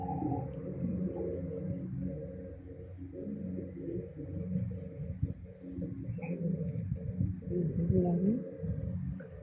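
A pigeon coos in low, rolling, repeated calls close to the listener, with voices talking over and around it.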